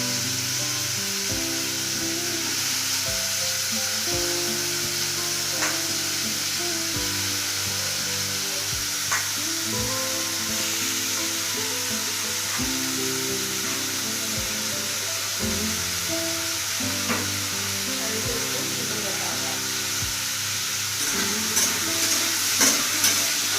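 Chopped potatoes fry in a pan with a steady, close sizzle, broken by regular thumps and scrapes of a spatula stirring them for the whole stretch, with no voices.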